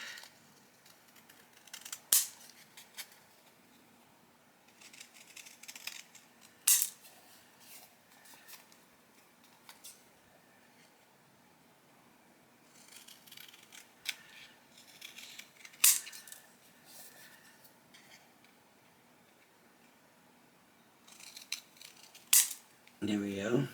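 Scissors cut out thick paper card pieces made with a Crafter's Companion template, giving sharp, close snips in small clusters separated by long quiet stretches.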